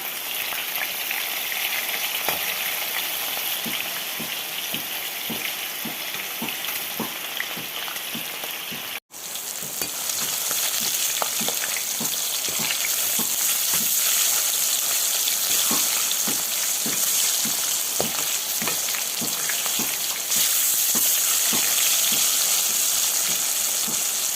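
Food frying in a pan sizzles loudly and steadily close by, with crackling pops throughout and one brief dropout partway through, no voices.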